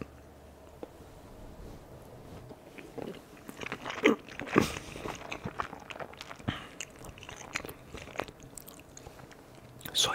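Close-up ASMR eating of shrimp sushi, with crunchy bites of fried shrimp and wet chewing that comes in irregular bursts against a quiet room.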